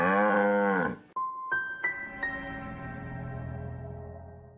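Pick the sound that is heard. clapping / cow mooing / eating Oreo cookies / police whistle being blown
cow mooing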